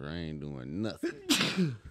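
A voice talks, then a single sharp, breathy sneeze bursts out near the middle, close and loud, followed by more voiced sound.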